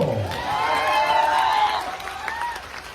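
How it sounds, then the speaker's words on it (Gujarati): An audience claps at a public speech in a short burst of applause, with a loud voice ringing out over the crowd noise. "તાળીઓ પાડશો"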